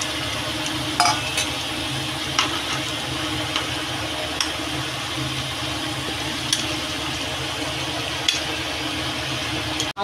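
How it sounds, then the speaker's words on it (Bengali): Fish sizzling in a pan of potol shaag, a Bengali pointed-gourd greens curry cooked with parshe fish, as a steady close frying hiss with faint pops and a clink near the end, no talking. "এবার আমি মাছগুলো দিয়ে দেবো।"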